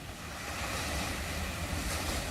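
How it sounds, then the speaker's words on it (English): Large ocean surf breaking off the Big Island of Hawaii, heard as a loud, continuous roar and wash of water with rumbling low end, no voices. "But we will get these gigantic waves on camera."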